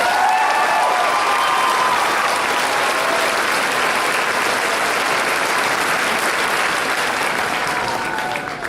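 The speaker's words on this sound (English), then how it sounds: "let's give these students a round of applause" A graduation audience at the 2018 W.F. West ceremony gives sustained applause, a dense, even wash of many clapping hands lasting several seconds before easing slightly at the end.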